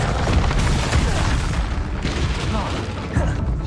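An Incendio fire spell cast in the video game Hogwarts Legacy gives a deep booming burst over a continuous rumbling game soundscape, with a voice calling out.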